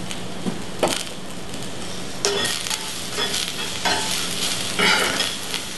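Vegetables warming in an enameled pan with a pinch of salt and pepper, a constant sizzle punctuated by several crisp wooden-spoon scrapes and taps against the pan.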